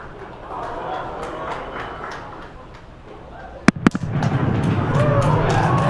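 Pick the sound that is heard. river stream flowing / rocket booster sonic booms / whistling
rocket booster sonic booms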